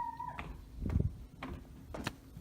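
Gracie, a cat on a ranch, gives a short meow at the start, followed by scattered thumps and knocks nearby, with quiet background noise throughout.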